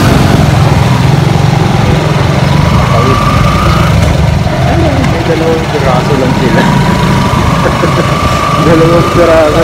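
A Yamaha YTX 125 motorcycle engine runs on a cold, rainy morning, a loud continuous buzzing drone up close that stays steady throughout with no speech over it.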